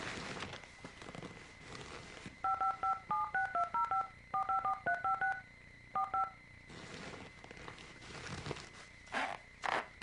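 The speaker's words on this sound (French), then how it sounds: "Je lui téléphone immédiatement." A telephone number is dialed as a quick run of about a dozen touch-tone beeps in short bursts, fairly faint over a quiet room hiss, with soft handling sounds before and after.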